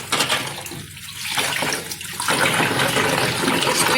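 Makeup brushes and sponge blenders are swished and squeezed in a bowl of water, giving continuous close splashing and sloshing with brief pauses.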